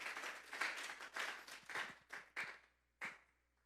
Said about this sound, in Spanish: Vamos a darle un fuerte aplauso pues